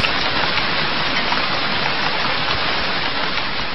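Steady, dense rain pours down in a desert, a loud, even hiss of falling water that fills the whole stretch with no pauses and no voices.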